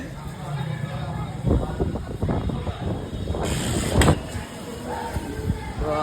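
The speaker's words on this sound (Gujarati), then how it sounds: "વરસાદ ન આવે તો સારું પવન ઉડ્યો છે" Strong gusts of wind batter the microphone during a storm in Bhavnagar, roaring and buffeting throughout with a sharper blast near the end, while people talk over it.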